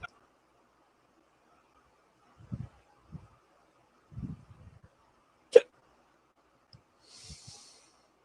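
A few quiet hiccups, separate and irregularly spaced, with small breathy sounds between them, close but soft in an otherwise silent room.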